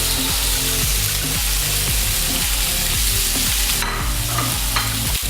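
Maple-cured bacon rashers and beef burger patties sizzle and crackle steadily on a hot sandwich press, a close, continuous frying hiss with faint clicks and scrapes throughout.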